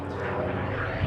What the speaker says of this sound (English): This is a great big brutal lump of an aeroplane